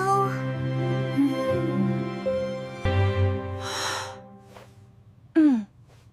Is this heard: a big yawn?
yes